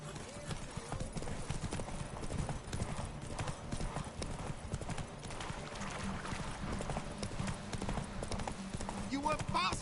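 In The Witcher 3, Geralt's horse Roach gallops in a rapid, steady clip-clop of hooves close up, with a brief whinny near the end and people talking over the hoofbeats.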